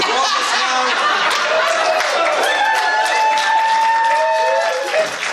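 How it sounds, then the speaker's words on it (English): A convention audience at a panel cheers and applauds throughout, a dense wash of clapping mixed with whoops, chatter and scattered laughter that stays loud and steady before briefly dipping near the end. "And you all are cheering."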